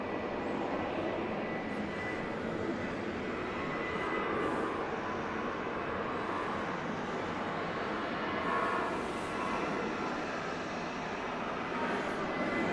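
A JetBlue Airbus A320 arriving from JFK in New York at Atlanta airport at night, its steady, broad jet roar holding constant throughout, moderately loud and unbroken, with no voices.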